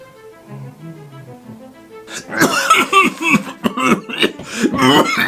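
A person launches into a harsh coughing fit of repeated rough coughs and throat-clearing bursts, loud and close, after a brief stretch of soft background music.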